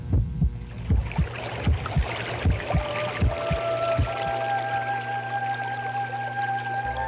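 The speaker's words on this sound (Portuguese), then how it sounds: "existe dentro da nossa trilha sonora um momento que é uma batida do coração" A theatre soundtrack heartbeat effect thumps in a steady double-beat rhythm, deep and close, over a low hum, with sustained tones rising in later as the beats fade out.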